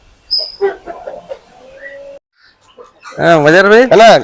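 An Aseel rooster with hen-like feathering calls in loud, harmonic, clucking bursts near the end, after softer scattered sounds from the yard.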